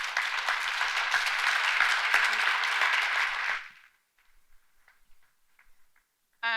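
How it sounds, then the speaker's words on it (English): Audience applause at a corporate talk, a dense burst of clapping from a crowd that fades out after about three and a half seconds, leaving near silence with a few faint sounds. "So please, a huge round of applause for Graeme Watt."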